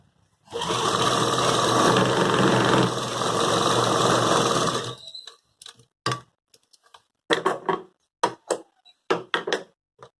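A sewing machine runs steadily for about four seconds while stitching the lining of a suit, then stops, followed by a series of sharp clicks and knocks from the machine and handling.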